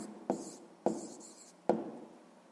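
Pen strokes write out an answer in a math exercise, three short scratchy bursts with quiet gaps between them, close and alone.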